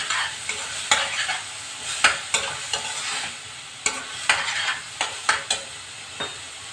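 Ginger garlic paste sizzles in a frying pan as a spoon stirs it with repeated sharp scrapes and taps against the metal, a brisk irregular rhythm over a low frying hiss, with no voices.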